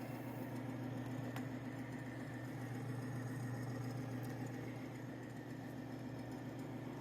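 A Timken bearing test machine runs steadily with its oil cup emptied, giving a continuous low mechanical hum with a steady tonal drone, even and unbroken, heard close up with no talking.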